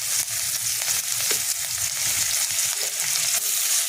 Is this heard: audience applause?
no